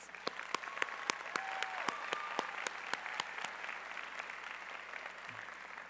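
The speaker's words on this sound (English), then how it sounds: "So please give yourself a big round of applause." Applause from the audience at a nursing pinning ceremony: a full round of many hands clapping at once, a dense, steady wash that stays at moderate distance and gradually thins toward the end.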